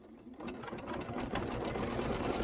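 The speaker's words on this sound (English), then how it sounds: "it wants you to stitch the ribbon casing" Embroidery machine stitching a ribbon casing on a hooped Santa cinch sack, a fast steady mechanical chatter starting after a brief quiet moment and running on at even volume.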